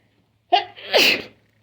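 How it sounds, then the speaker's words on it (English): A single close sneeze: a quick sharp intake followed by a loud, breathy burst, alone in a quiet space. "I feel like I gotta sneeze."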